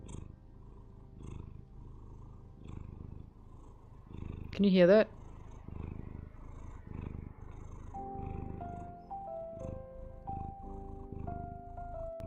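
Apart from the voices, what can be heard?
cat purring held up to the microphone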